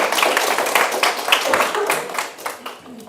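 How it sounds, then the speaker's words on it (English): Brief applause from a panel audience at a Professional Women's Network event for International Women's Day, scattered clapping of moderate strength with talk and voices mixed in underneath, tapering off toward the end. "So let's give them a round of applause."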